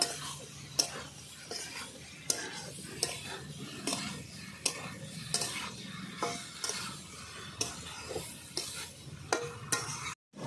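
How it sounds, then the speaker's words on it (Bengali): Jackfruit curry being stirred and sautéed over low heat, a metal spatula scraping and tapping the pot in a repeated rhythm of distinct strokes above a soft background sizzle, close by. "আমি এইভাবেই ভালো করে আস্তে আস্তে জাল দিয়ে কষিয়ে নেব"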